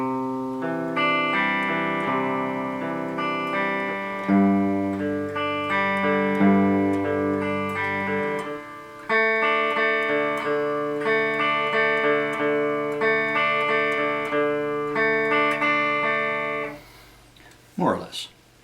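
Electric guitar slowly picks the verse pattern of a song in steady arpeggiated string runs that repeat in phrases, clear and close with some effects. A short burst of talk follows at the end.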